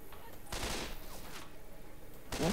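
Sharp bursts of gunfire from the zombie shooter game Left 4 Dead 2 crack out in two separate volleys, fairly quiet under a low background hum.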